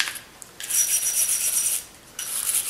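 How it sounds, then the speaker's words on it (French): A small soft brush scrubs over the crevices of a firearm during cleaning, making a few short, close, raspy bristle rubs separated by brief pauses. "je vais prendre une petite brosse douce où je vais aller frotter les aspérités où je ne peux pas me rendre avec la guenille"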